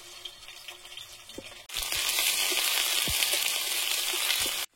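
Ginger garlic paste hits hot oil in a wok. A quieter stretch gives way to a sudden loud, steady sizzle that holds close until the end, with no talking.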